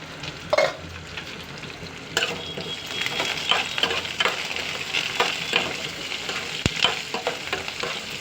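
Cumin seeds and bottle gourd pieces frying in a pan, a constant sizzle with crackles and spoon scrapes and clinks, near and moderately loud, without talk.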